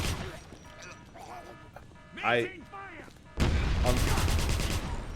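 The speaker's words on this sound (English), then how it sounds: "That was a bazooka. Well, Panzerfaust or Panzerschreck." Rocket-launcher fire from a Panzerfaust or Panzerschreck in the 2009 Wolfenstein game, a sudden loud broadband blast that holds as a sustained roar for a couple of seconds, after quieter game noise and a brief voiced sound.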